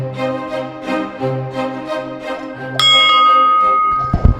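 A bell at a Slovenian castle set beneath a huge cave rings out sharply once and leaves a bright sustained tone, with faint music or voices murmuring before the strike and a few clunks at the end.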